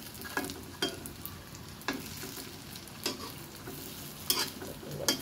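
Bread pieces, a fried naan-like dough made with milk and egg, frying in hot oil with a steady close sizzle, broken by several sharp bursts of spattering as pieces are stirred or turned.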